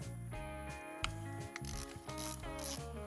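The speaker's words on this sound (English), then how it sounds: "Fortunately, I caught on to the problem and switched socket bits to the correct type." A socket bit works on the primary chaincase screws of a Harley Touring model, giving rapid repeated ratcheting clicks with tonal mechanical whirring, close and steady for about three seconds.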